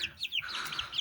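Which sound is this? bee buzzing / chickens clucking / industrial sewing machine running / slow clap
chickens clucking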